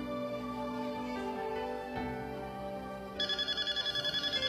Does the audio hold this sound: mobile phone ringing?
yes